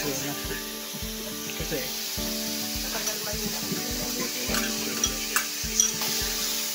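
Rice being stir-fried for yang chow fried rice, a loud steady sizzle punctuated by a regular rhythm of spatula scrapes and wok tosses, close and busy, with faint background sounds.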